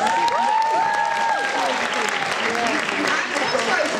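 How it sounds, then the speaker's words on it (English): Audience applause fills a hall at a youth public-speaking challenge event, steady and sustained for the whole stretch, with tonal music-like traces and voices mixed underneath. "So I think another round of applause."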